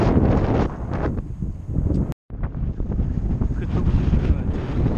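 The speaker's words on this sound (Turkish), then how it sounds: "Karşıdan yine rüzgar var." Strong headwind buffets an outdoor microphone on a road between Uşak and Isparta, a loud continuous low rumble with gusty fluctuations and a brief dropout partway through.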